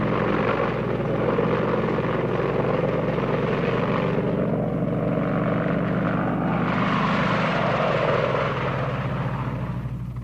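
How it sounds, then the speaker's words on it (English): An Apache attack helicopter flies past in a steady, loud drone of engine and rotor, the tone swelling and thinning slightly as it moves, with no voices over it. "Apache attack helicopters were the only Army units to take part in the air campaign."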